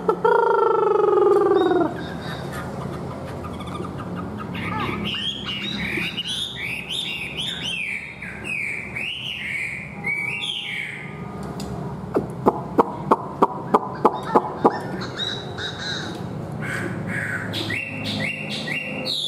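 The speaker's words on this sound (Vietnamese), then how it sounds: "một em một họa mi mộc tuyển này" Chinese hwamei songbird singing a long run of varied, rich whistled phrases and rapid chirps, close and loud, alone throughout with a quick series of sharp clicks near the end.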